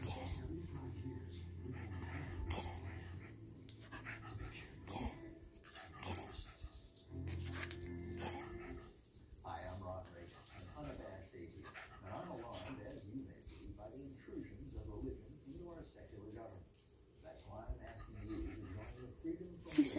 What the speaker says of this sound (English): He's such a good baby dog.